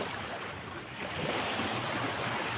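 Waves washing onto a beach, a steady broad roar of surf with wind noise buffeting the microphone, swelling slightly louder partway through, with no talk.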